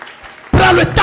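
A church congregation bursts into loud cheering and applause for Jesus during a Sunday sermon, the crowd noise starting abruptly after a brief quiet stretch and holding strong, with a short dip before rising again.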